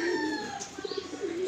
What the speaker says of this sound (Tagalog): Maraming kalapati yan.